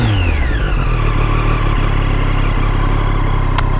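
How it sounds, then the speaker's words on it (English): Loud, close intake roar from a 2018 Triumph Street Triple RS engine drawing in air, its pitch sweeping down as revs fall and then settling into a steady rumbling idle, with a brief click at the end. "nice induction sound of the engine pulling in the air"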